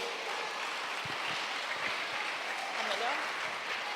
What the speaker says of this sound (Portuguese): Pode dar uma salva de palmas para Ele.